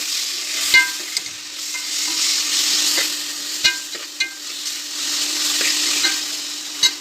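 Masala with ginger garlic paste fries for beef gravy, a steady close sizzle broken by occasional knocks and scrapes of a stirring spoon against the pan.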